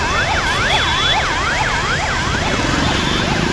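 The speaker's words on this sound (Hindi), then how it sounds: "इधर एम्बुलेंस है वो कहता फंसी हुई है" A loud wailing ambulance siren sweeps up and down nearby, caught in a dense traffic jam, with the rumble of idling vehicles underneath.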